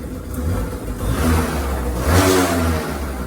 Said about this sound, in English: There's that two-stroke sound.